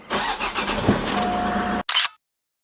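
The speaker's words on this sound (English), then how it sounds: "We're just going to turn on the engine and run the engine in idle for about 5 minutes." A car engine turns over and settles into a steady idle, left running to warm the oil before an oil change. The running sound is loud and continuous for nearly two seconds, then cuts off abruptly.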